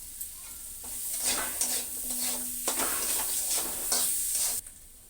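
Turmeric and ginger sizzle in a hot pan while a spoon stirs them, giving a steady soft frying hiss with repeated scraping strokes and light clinks of utensil against metal, close and fairly quiet.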